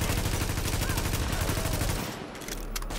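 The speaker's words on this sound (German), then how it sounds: "Aus der Deckung können wir auch schießen" Dense rapid automatic gunfire in Tom Clancy's The Division, loud and close with fast repeating shots, easing briefly before more bursts at the end, with faint talk underneath.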